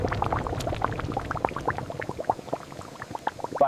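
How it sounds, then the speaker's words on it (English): Sugarcane juice boils inside a multiple-effect evaporator at a cane sugar factory, a dense stream of bubbling pops and liquid gurgles, close and continuous with no voices. "Steam heats the first vessel, boiling off water."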